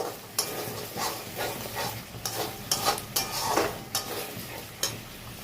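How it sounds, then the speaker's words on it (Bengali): Spice paste frying in oil in a pan with potatoes and cauliflower, giving a steady close sizzle broken by repeated stirring scrapes and a few utensil clinks, with no voices. "দেখো মশলাটা দিয়ে আস্তে আস্তে কিন্তু সাইড দিয়ে দেখো তেল ছাড়ছে।"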